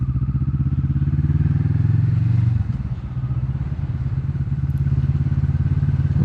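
Kawasaki Vulcan S motorcycle being ridden, its engine holding a steady, throbbing mid-pitched drone close to the listener, with a brief dip in the middle before the note settles back.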